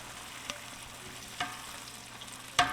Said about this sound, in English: So we're gonna add our veggies. You can hear that sizzle right off the bat.